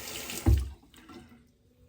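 A bathroom tap runs water for shaving. There is a sudden loud gush, then it trails off into a softer trickle and fades within about two seconds, with nobody talking.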